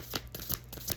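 Tarot cards being shuffled close up, a quick series of about five soft riffling bursts in an even rhythm, quiet with no talking.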